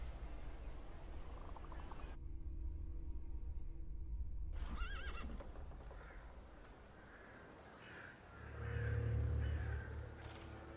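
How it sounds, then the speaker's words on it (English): A horse neighs and whinnies clearly in The Thaumaturge video game, a loud drawn-out call followed by softer snorting and shifting hooves near a quiet setting, with no one speaking. "I meant to take the horse out for a ride"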